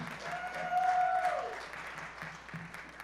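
Theatre audience at a comedy show at the Haymarket Theatre applauds a comedy performer, a steady wash of clapping from a crowd that swells briefly then settles, heard at moderate distance with no clear voices.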